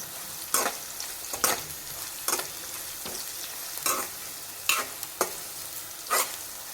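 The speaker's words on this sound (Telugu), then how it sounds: "ఒక టీ స్పూన్ పసుపు అయితే వేసుకుంటున్నాను మంచిగా కలుపుకుందాం" Turmeric being stirred into frying oil in a pan for a beans and tomato curry, steady sizzle broken by about seven sharp scraping strokes of a spoon at an uneven rhythm.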